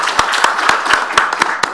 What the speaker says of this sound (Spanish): Un aplauso por favor aquí al compañero que respondió